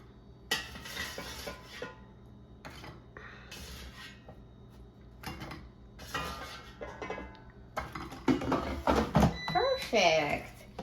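Browned frozen Farm Rich mozzarella bites lifted out of an air fryer basket, with light metallic clinks and taps in short bursts, and a voice briefly heard near the end.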